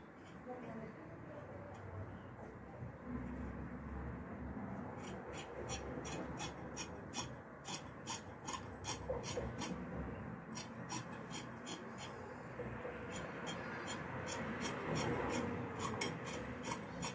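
Scissors trim ankara fabric, giving rhythmic runs of sharp, quiet snips that start partway through and come in two bursts. They sit over a steady noisy background.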